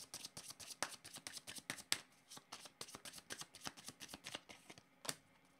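Tarot cards being shuffled and drawn by hand, a quick run of soft riffling flicks and slaps close by, fairly quiet, with no speech.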